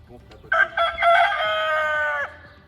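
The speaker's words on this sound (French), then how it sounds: "les coqs ne se sont pas fait prier pour chanter haut et fort" A Gallic rooster at a French rooster conservatory crows loudly and close up in one long, strained call of about two seconds, preceded by a few soft clucks.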